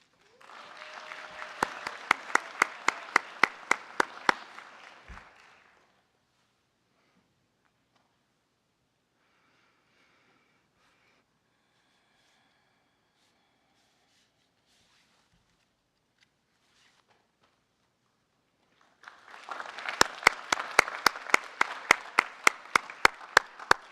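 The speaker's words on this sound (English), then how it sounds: "join me in a round of applause for our Central Michigan University graduates" Graduates of Central Michigan University receive applause at the Fort Leavenworth commencement ceremony: a hall of clapping for about five seconds, then near silence with faint rustling, then a second loud round of clapping swelling in at the end.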